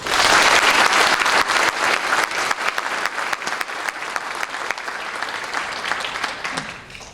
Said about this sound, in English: Let's give the Army a round of applause.